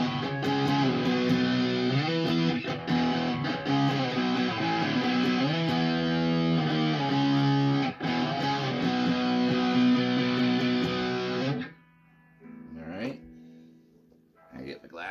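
An electric guitar plays through a Marshall MG15CFX amp on its overdrive channel: thick, distorted chords and riffs ring out loud and alone for about eleven seconds, then drop to a quiet pause with a few faint plucks.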